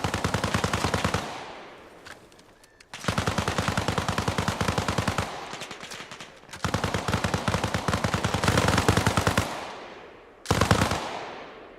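Automatic weapon fire in the military shooter game Arma Reforger comes in long, rapid bursts of loud, close gunshots. Short gaps separate the four bursts.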